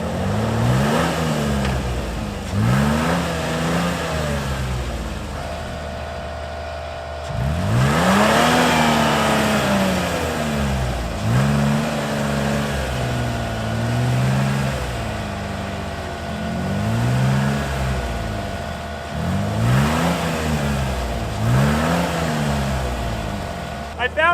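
Off-road trucks, including a one-ton Tacoma, Chevy and Jeep, rev and rumble along a bush road toward snow, engines rising and falling in repeated surges close by, with a person talking over the steady motor noise.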